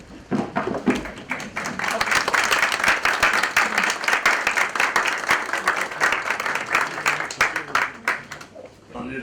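An audience at an Islamabad Chamber of Commerce and Industry event stands and claps, giving dense, sustained applause that swells quickly and holds steady for several seconds with sharp individual claps throughout.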